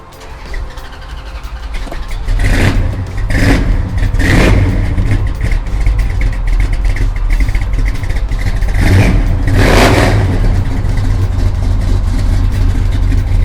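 A 1970 Dodge Charger R/T fitted with Magnaflow exhausts rumbles close and loud, its deep idle broken by several sharp revs that swell and fade at intervals.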